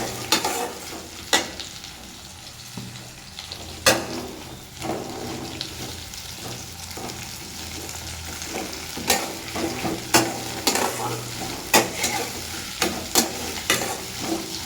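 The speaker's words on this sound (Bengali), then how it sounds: "তো পেঁয়াজগুলো দিয়ে ভালো করে লাল করে ভেজে করে নেবো" Onions frying in hot oil in a pan, a continuous close sizzle broken by sharp spatula scrapes and clinks at irregular intervals.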